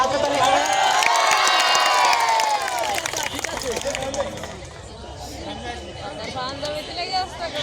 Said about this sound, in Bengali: একটু করতালি হবে, হাততালি হবে।